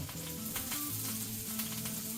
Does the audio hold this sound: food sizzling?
yes